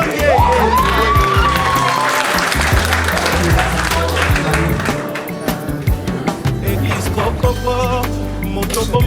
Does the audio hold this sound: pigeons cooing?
no